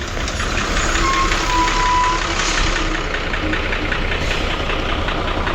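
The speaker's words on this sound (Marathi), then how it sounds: "बस आली फायनली." A bus that had been delayed by a punctured tyre pulls up at a rural stop in Sangameshwar with a loud, steady diesel engine rumble and a faint beep, no talking.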